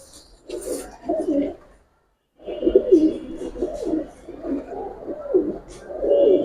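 Giribaz pigeons coo in low, throaty, repeated rolling phrases, close and fairly loud, with a short silent gap partway through.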